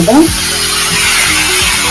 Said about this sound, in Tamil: தாளிச்சுட்டு நல்லா வதக்கிக்கலாம்